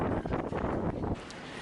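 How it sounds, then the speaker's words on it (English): Strong wind buffets a sailboat at sea before dawn, a steady broadband roar with gusty swells, close to the microphone and with no voices. "it is crazy out there. It's crazy windy and rolly."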